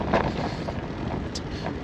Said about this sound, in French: J'ai un petit peu un vent là, un vent de latéral